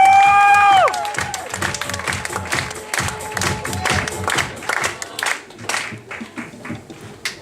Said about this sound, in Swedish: stor applåd till Mr. Check-in, Fredrik Hellman.